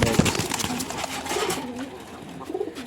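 Several domestic pigeons, one of them injured after fighting, give low throaty coos close by. The coos repeat in short rolling bursts over a soft background rustle.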